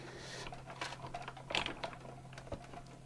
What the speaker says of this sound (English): this is me die cutting